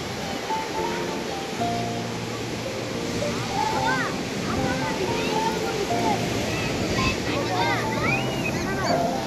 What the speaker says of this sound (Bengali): কতটা যে সমুদ্রের আওয়াজ তা তোমরা হয়তো শুনতে পাচ্ছ